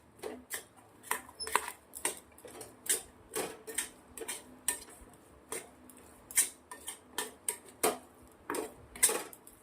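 A spoon stirring motichoor ladoo mixture with peanuts and pistachio slivers in a bowl, producing a close, quiet, irregular string of light clinks and taps against the dish.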